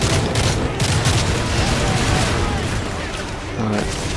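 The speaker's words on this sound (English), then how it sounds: "Shoot a bunch of guys." Gunfire in the video game Call of Duty: Modern Warfare 3, loud and close, with dense bursts of shots and booms in rapid fusillades that fill the whole stretch, and a voice talking over the battle.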